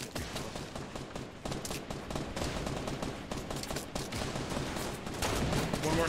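Rapid bursts of Fortnite Battle Royale gunfire, including heavy shotgun blasts, crackle steadily at moderate loudness throughout the match, with players' voices faintly underneath.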